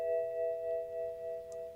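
A steady electronic BMW car warning chime holds a sustained, bright tone throughout, with a faint click near the end and no talking.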